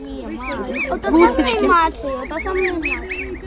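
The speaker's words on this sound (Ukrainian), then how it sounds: "Це такі гуси." Geese honk in a close, loud, excited jumble of nasal calls, several birds overlapping continuously over a few seconds.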